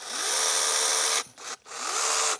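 A small 6-inch battery-powered chainsaw revs in two loud, close bursts with a high whine, separated by a brief stop and short blip.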